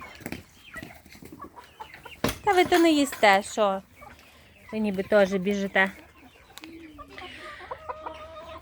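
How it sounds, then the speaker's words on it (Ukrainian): Chickens cluck and squawk nearby in several bursts, with a person talking in between. "Що тут наші курчатка говорять нам?"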